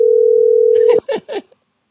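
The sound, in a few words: phone call ringing tone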